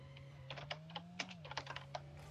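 Rapid, irregular keystrokes on a mechanical keyboard clack close and crisp over a steady low hum, with a quieter tone sitting just above it.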